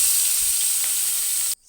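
Pieces of rohu fish fry in hot oil in a wok, giving a close, even sizzle with faint spitting that carries on steadily and then cuts off abruptly near the end.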